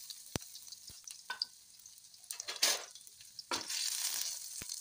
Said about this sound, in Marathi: जिरं टाकणार आहोत आपण आणि मी थोडा लसूण असा कुटून घेतलेला आहे